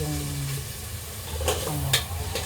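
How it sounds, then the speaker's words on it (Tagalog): Tomatoes softening in a pan while saluyot with kalabasa is cooked, giving a steady low sizzle with occasional spoon scrapes and stirring clicks, close and moderately quiet. "Palambutin ko lang ng konti yung kamatis"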